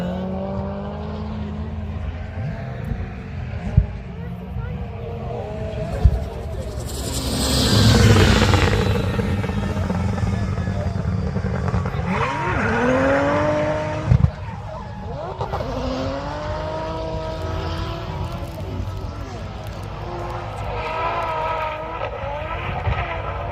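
A 1000bhp drift car circles the Castle Combe circuit, its loud engine revving hard and climbing in pitch to the limiter, with tyre squeal and the rise and fall of the car passing close by.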